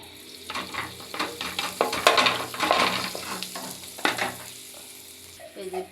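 Onion and carrot fry in oil for pocket shawarma, a crackling sizzle that swells and fades as a utensil scrapes and stirs through the pan in uneven bursts.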